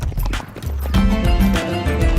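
Horse sounds with hooves clopping against a hard surface in Suruç, Şanlıurfa, Turkey, brief and close, over a low rumbling background.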